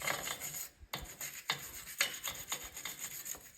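Stiff wire bristles scrub back and forth against a GMC Yukon's metal wheel hub in quick, raspy strokes, close up and steady, with no voices.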